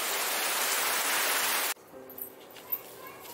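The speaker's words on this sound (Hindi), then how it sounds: "लेकिन बारिश इतना तेज आ गया कि देखिए सब गीला भी हो गया।" Heavy rain pours down at an outdoor cooking spot with a wood-fired stove, a loud dense hiss for nearly two seconds that cuts off abruptly, leaving only faint scattered sounds.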